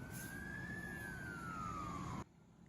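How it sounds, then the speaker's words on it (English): A fire truck siren sounds on a road as firefighters respond to an emergency: a loud, steady wail that rises and then slowly falls over engine and road rumble, then cuts off abruptly near the end. "Firefighters rushing down the road, responding to an emergency."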